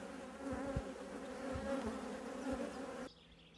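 Dense, continuous buzzing of many honey bees close by, a low humming swarm with a few thumps, ending abruptly.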